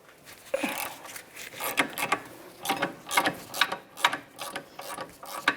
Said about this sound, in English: 14mm socket. Let's break the nut free from the bracket.